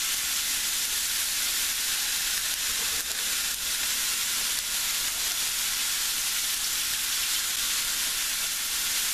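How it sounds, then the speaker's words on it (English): Minced garlic sizzles in hot coconut oil, a dense, steady frying hiss that stays loud and even throughout with faint stirring underneath. "now we're gonna add our garlic to the coconut oil"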